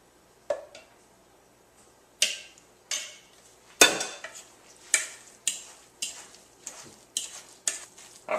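Wet and dry muffin batter ingredients, thick and sticky, are folded together with a utensil in a bowl, giving about a dozen separate scraping, squelching strokes at an uneven pace, close and clear with no talking.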